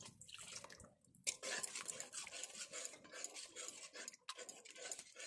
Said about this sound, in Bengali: দুধটা দিতে হবে আর নাড়তে হবে এইভাবে